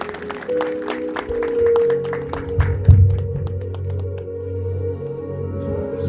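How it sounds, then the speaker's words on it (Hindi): A church congregation at a Sunday service claps loudly and fast for the first few seconds over sustained musical tones, then the clapping thins out and the tones carry on alone. "जोरदार तालियां बजाते हुए"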